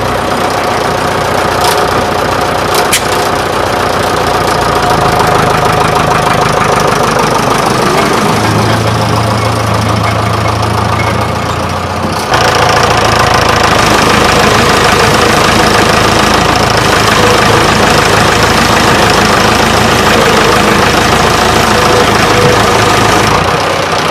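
Tractor engine running steadily at a heavy, knocking idle while a massive roller drags it backward. The engine is loud and continuous throughout, its tone shifting partway through, with no voices.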